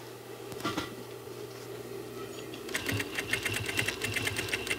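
A sewing machine stitches welt onto a seat cushion cover for sofa reupholstery, giving a short close burst of rapid stitching, then a pause, then a longer rattling run of quick, even needle strikes.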